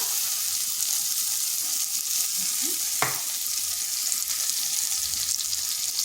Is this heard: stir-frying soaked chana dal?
yes